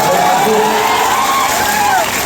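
A crowd of students cheers and shouts loudly at a motivational talk, a dense, steady roar of voices with whoops rising over it.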